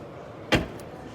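A single solid thump of a 2024 Ford Focus Active X door shutting, fairly close, followed by a faint click and quiet background.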